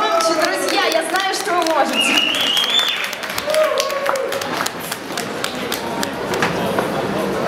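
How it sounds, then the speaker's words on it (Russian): An audience at a poetry evening gives steady, lively applause for the first participant, with sustained clapping close by and voices and a whistle-like call rising above it. "Давайте его поддержим громкими-громкими аплодисментами."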